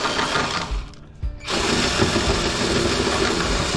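A cordless drill whirs steadily up close while scrapping a furnace, briefly dropping out for a moment before revving back to a constant, slightly strained motor drone.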